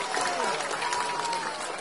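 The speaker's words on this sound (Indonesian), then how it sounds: "Tepuk tangan buat semuanya" Crowd applause at Anies's big political campaign rally in Brebes, a faint, diffuse spatter of many hands clapping with crowd murmur, distant and steady across the moment.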